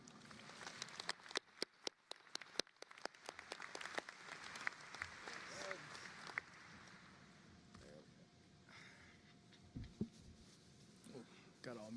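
Scattered, then thickening, claps from a crowd at the Johnson & Wales Charlotte 2025 commencement ceremony welcome a speaker, fading out after about six seconds as speech and murmuring take over in the hall.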